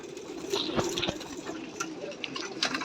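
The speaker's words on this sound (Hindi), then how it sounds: "तो ये कबूतर देख ले ये जोड़ा बन गया" A pair of white pigeons coos softly and steadily up close, low rounded calls repeating with a few brief rustles and clicks over a faint background hiss.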